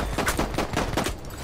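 Rapid gunfire in the Battlefield 1 multiplayer game, a dense burst of repeated shots at an even, fast rhythm, loud and close, with no talking during it.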